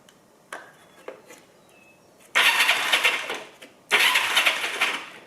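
A Honda CB360 motorcycle engine cranks over in two loud, rough bursts of about a second or more each, separated by a short pause, after a few faint clicks in near silence.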